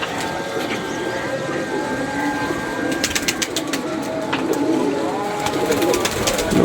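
Pet pigeons, some looking sluggish, coo repeatedly at close range in low rolling calls over a constant background hum, with a few sharper clicks in the middle.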